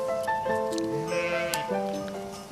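A ewe in a flock, one with an odd foot, bleats loudly and up close, giving several drawn-out, wavering calls one after another.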